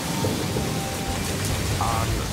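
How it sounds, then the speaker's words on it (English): Torrential rain from the tail of a hurricane pours down in a dense, loud, unbroken roar with low thunder rumbling beneath, close and enveloping throughout. "Unbelievable torrential rain"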